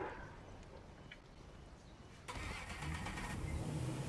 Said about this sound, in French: on va prendre le bateau.